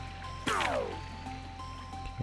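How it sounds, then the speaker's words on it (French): Waterfall in the video game Minit: a soft, steady rushing stream sits low under game tones, with a brief electronic sweep near the start. "Là, il y a une cascade, on peut la remonter ?"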